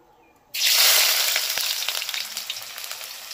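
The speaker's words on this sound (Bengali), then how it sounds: "এবার আমি পেঁয়াজ কুচো দিয়ে ভেজে নেব" Chopped onions hit hot oil in a heated kadai with a sudden loud sizzle that stays steady and bright, slowly easing and crackling as the frying settles, with no voices.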